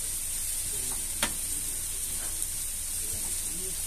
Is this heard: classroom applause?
no